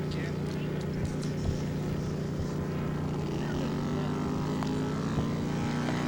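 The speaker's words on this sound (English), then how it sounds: "turning into position for takeoff on Saturday" Scale model propeller airplane taxiing and turning into takeoff position at a Saturday scale aircraft show in Fresno, California, its engine a steady close drone throughout, with faint talk in the background.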